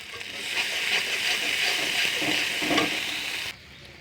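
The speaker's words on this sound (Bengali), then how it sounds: "তো দেখো এখানে কি সুন্দর মশলাগুলো ভাজা হয়ে গিয়েছে।" Spices and chili powder sizzle steadily in a hot pan, a continuous bright frying hiss with occasional stirring scrapes, close and alone before cutting off near the end.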